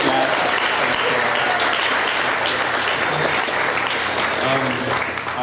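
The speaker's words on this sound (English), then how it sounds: "let's just give Adrian a big round of applause" A live concert crowd at a bar gives a big round of applause for the band's producer, loud, dense, sustained clapping with cheering voices mixed in throughout.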